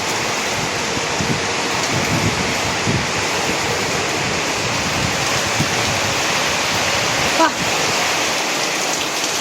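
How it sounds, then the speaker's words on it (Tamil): Heavy rain driven sideways by wind pours down outdoors near hills, a loud continuous hiss and rush that fills the whole stretch, steady and close with no pauses. "இங்கிட்ட விட அங்கிட்ட செம்ம மழை"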